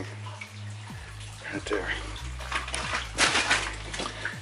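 Water flows steadily over minecart rails inside a coal mine, a continuous rushing wash with a low machine-like hum underneath, while someone talks briefly nearby.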